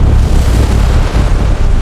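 A huge siege cannon fires at Constantinople, giving a loud, sustained deep rumbling boom that fills the whole moment with heavy low roar, with no voices.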